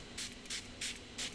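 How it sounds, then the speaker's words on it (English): A spray bottle mists water onto a watercolor painting in four short, quiet hissing bursts, evenly spaced and alone. "let's just spray this whole area here"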